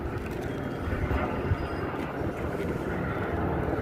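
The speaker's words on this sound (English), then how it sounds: "I can hear the CHP's propeller airplane." Low, steady drone of a CHP propeller airplane circling above a Long Beach police pursuit, a broad distant rumble heard alone without talk.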